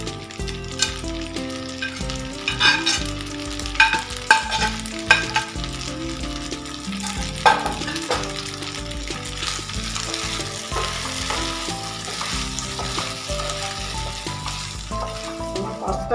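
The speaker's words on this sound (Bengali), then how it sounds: "সেই ডিমের ঝুড়িটা এবার আমি দিয়ে দিচ্ছি।" Scrambled egg and red sauce are tossed into pasta frying in a pan, producing a loud, close sizzle with frequent spoon scrapes and clatters over faint background music.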